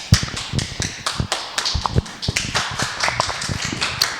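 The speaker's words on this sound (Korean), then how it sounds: "우리 PPD 배재훈 사장님 오실 때 큰 박수 부탁드립니다" An audience at a seminar gives applause to welcome a speaker, a run of scattered, close handclaps with an uneven rhythm, free of talk.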